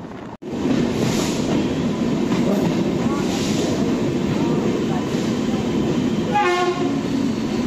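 A passenger train on the Konkan Railway runs fast through deep curves, a loud continuous rumble and rattle from on board, with a short horn blast near the end.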